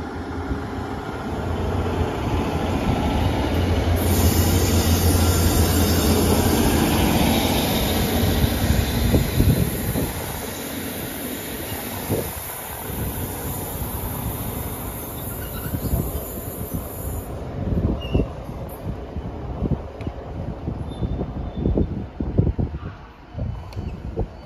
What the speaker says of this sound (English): departing out now is the 1621 Transport for Wales service from Aberdare to Barry Island.